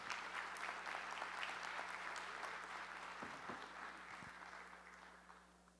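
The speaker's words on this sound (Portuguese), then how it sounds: "uma salva de palmas para o Percival" A crowd at a plenary session of an internet forum in Brazil claps at length, a dense even patter that slowly thins and fades over about six seconds, with a low steady hum beneath.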